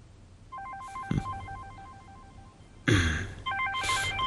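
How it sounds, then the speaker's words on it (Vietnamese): A telephone ringtone repeats in short melodic bursts, loud and close, interrupted by rustling movement as the phone is picked up, in an indoor drama scene. "con phải nghe điện thoại"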